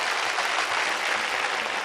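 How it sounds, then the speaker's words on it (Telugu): A studio audience on a Telugu comedy game show applauding, a steady even wash of many hands clapping at once, sustained and fairly loud with no pauses. "claps, everybody clap"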